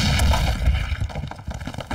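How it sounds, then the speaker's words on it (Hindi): A Diwali firecracker bomb goes off in a Hindi-dubbed South Indian film scene, a loud booming blast that rumbles and then breaks into a series of crackling pops. "वो दीपावली का बम होता है ना, वही है सर"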